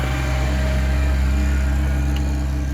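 A Morris Mini Minor engine runs steadily at a British Leyland classic car show at Gaydon, a low continuous idle hum with a faint mechanical whine, close and unbroken, with no talking.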